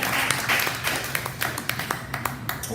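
A small comedy club audience claps in scattered, uneven bursts, with individual sharp claps standing out close by over a thinner room-wide patter.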